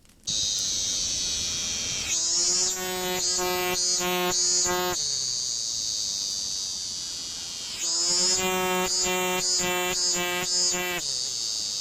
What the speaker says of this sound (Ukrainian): Цикади це члени великої родини комах, що славляться своїм гучним співом.